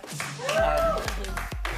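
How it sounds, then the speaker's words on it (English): A few separate hand claps, clearly spaced apart, with a voice talking over them. "Don't clap on your own, please."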